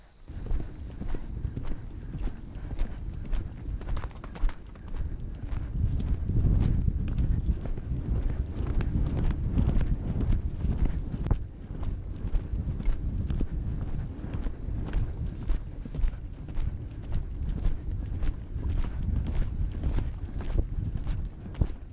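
Horse hooves clip-clopping steadily while ridden down a main street, a continuous close, even rhythm of hoof strikes on hard pavement that runs the whole way through without talk.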